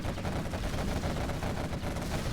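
Quad cannons firing in the real-time strategy game Command & Conquer Generals Zero Hour during a 1v1 match, a dense continuous barrage of rapid gunfire bursts with no pauses.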